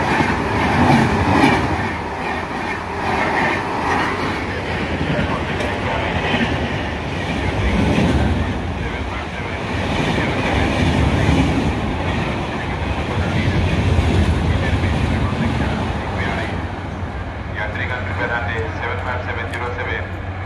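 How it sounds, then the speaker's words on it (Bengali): A train passes on a railway line near Aluabari in Uttar Dinajpur, West Bengal, with a steady, loud rumble and rhythmic wheel clatter running throughout. Speech can be heard over the noise. "ট্রেন পাস করবে বন্ধুরা, দেখুন।"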